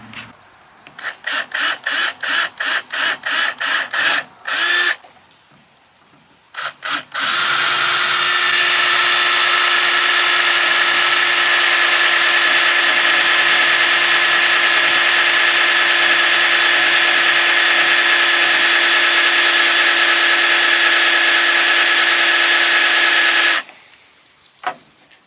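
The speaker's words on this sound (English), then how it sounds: "I'm gonna drill a pilot hole." A power drill bores a pilot hole into a hard plastic part of a Frantz toilet-paper bypass oil filter for a Chevy 2500 with a 350 engine. Short pulsing bursts come first, then a loud, steady whine of about fifteen seconds that cuts off abruptly.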